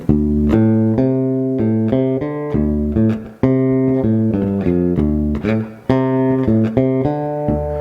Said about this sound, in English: I'll use just the bridge pickup, and it's got a nice bright sound